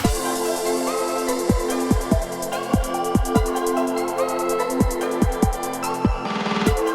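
A busy drum break in an electronic track, punchy kicks and snares over rapid hi-hats and synth chords, with a brief filtered sweep near the end.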